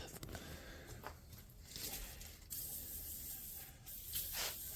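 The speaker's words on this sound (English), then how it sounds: "we're going to spray all these nuts and bolts." Penetrating oil sprayed from a can onto rusty nuts and bolts of an old McCulloch 1-80 chainsaw. Several quiet, uneven hissing bursts come in a close, low-level scene with faint handling noise.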